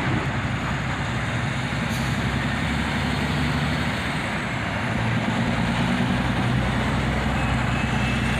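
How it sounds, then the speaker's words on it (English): A procession of dump trucks rolls past, a continuous heavy diesel rumble with a faint air-brake hiss that stays loud and steady from start to finish, with no voices. "a parade of dump trucks was going by at the same time"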